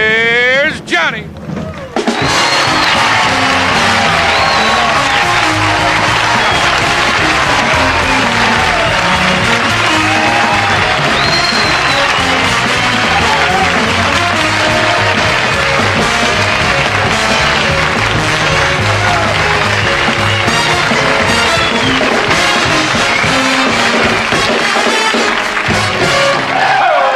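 A late-night television studio audience in 1973 breaks into loud, sustained applause and cheering that carries on for more than twenty seconds, with voices mixed into the crowd noise.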